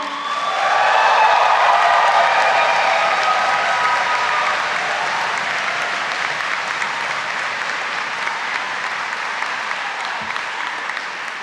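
A graduation audience at Caird Hall bursts into loud applause and cheering that swells quickly, then settles into steady, slowly fading clapping that continues to the end.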